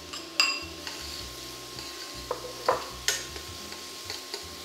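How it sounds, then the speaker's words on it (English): Onion sautés in oil in a pot, a light sizzle broken by several clinks and scrapes of a utensil against the pot, close and quiet with no voices. "And I will be adding first the onion and sauteing it until it's translucent."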